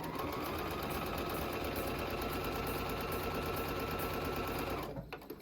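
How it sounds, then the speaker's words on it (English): A sewing machine stitching a quilt seam on a bonus half-square triangle, a steady fast mechanical whirring and clatter running for several seconds before stopping abruptly near the end. "I'm going to sew right on that line for that bonus triangle"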